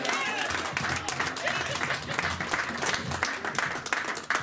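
Church congregation clapping in worship, a crowded, dense patter of hands that stays fairly loud throughout, mixed with voices and some cheering.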